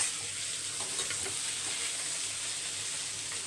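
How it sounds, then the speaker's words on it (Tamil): Capsicum and raw banana sautéing in a pan as part of a festive Karthigai Deepam meal, giving a continuous even hiss of frying with faint scraping of stirring underneath, steady and close throughout. "ஒரு பக்கம் வதங்கட்டும். குடமிளகாவும் வாழைக்காவும் ரெடி ஆகிடுச்சு."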